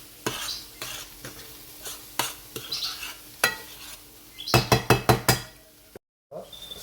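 Tomato sauce with beef meatballs cooking in a pan, a soft sizzle running under a spoon's repeated scrapes and knocks against the pan, ending in a quick burst of clatter and a brief cut.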